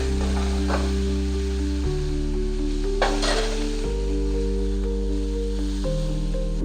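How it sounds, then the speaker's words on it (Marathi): Cabbage for samosa filling fries in a pan, a soft steady sizzle beneath a loud low background hum, with an occasional brief stir. "आता कोबी थोडीशी मी फ्राय करायला ठेवणार आहे."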